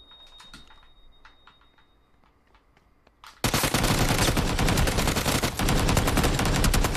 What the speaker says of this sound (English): Getting shot from somewhere else over here?